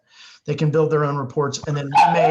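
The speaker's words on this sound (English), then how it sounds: "that's my dog barking" A pet dog barks in the background during a remote work presentation on data analytics, with the barks mostly buried under continuous close speech.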